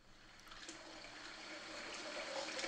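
Tap water running steadily into a container, a soft continuous trickle and splash that builds slightly louder over a few seconds, with no voices.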